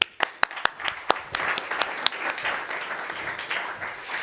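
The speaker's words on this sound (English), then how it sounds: "So give him a warm applause." At a startup investment conference pitch session in Vienna, a few sharp, distinct claps start the applause, which then swells into steady, moderately loud clapping from the audience.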